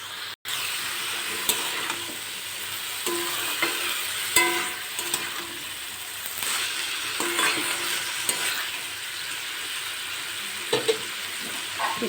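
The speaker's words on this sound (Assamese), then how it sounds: "এতিয়া আৰু অলপমান মই ভাজি ল'ম।" Leafy greens stir-fried in a pan with spices give a steady, close sizzle, broken by repeated scraping and clattering stirring strokes, with no voices.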